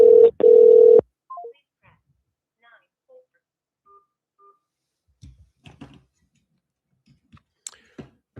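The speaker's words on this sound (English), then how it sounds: "Calling on a different phone as well." Telephone dialing tones sound on a phone used for calling, a loud pair of steady beeps at the start followed by a few short tones and scattered faint clicks.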